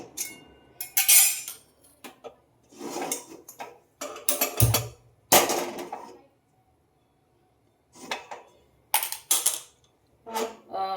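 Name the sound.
kadhai (wok) placed and handled on the stove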